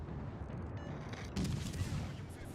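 Naval guns firing high-explosive shells in World of Warships Legends, a muffled distant boom followed by rumbling gunfire, fairly faint.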